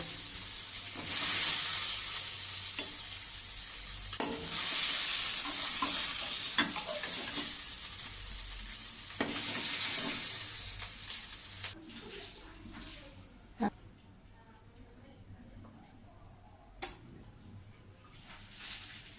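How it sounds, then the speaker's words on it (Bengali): Soybeans seasoned with salt and turmeric fry in a kadai with a loud, steady sizzle for several seconds, then the noise drops to quiet background hiss broken by a few sharp utensil clinks. "সোয়াবিনগুলো আমার ভাজা হয়ে গেছে"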